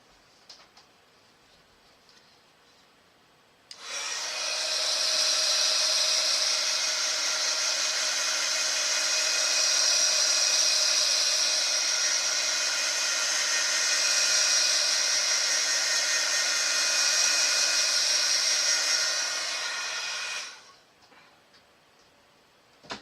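Hair dryer blowing steadily for about sixteen seconds over a stamped, masked craft background, a close, even whooshing hum that starts abruptly and cuts off cleanly, with quiet room sound before and after.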